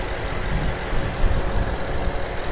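A 2016 BMW X6 M engine idles steadily with a smooth, consistent low rumble, heard up close from the open engine bay with no talking.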